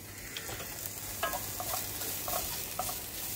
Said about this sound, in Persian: اول هویجامون رو رشته‌ای رنده میکنیم و تفت میدیم